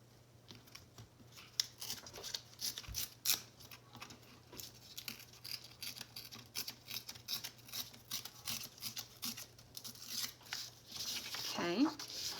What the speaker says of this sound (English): I'm just going to hold my ruler, and then I'm going to tear for all the edges